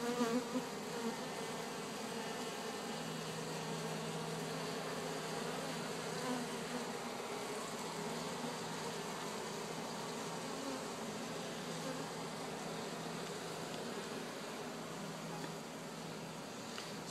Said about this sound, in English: Here's our bees.